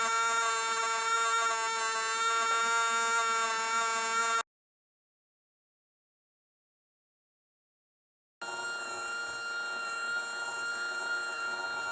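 A small 3-volt brush motor whines with a steady, high, buzzing tone, runs continuously, cuts to silence for about four seconds, then starts again at the same pitch and level.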